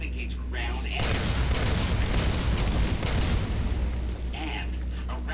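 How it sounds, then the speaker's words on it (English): The M235 missile launcher on a Securitron in Fallout: New Vegas fires a sustained burst of heavy booming blasts with rumbling low end, starting after a second and fading near the end, with a voice speaking at the edges. "With the M235 missile launcher, we can engage ground and air."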